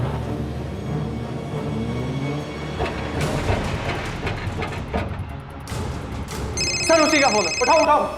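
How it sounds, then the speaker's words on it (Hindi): A phone starts ringing in repeated electronic bursts near the end, rising over a busy background of rumbling traffic and voices. "सर उसी का फोन है, उठाओ।"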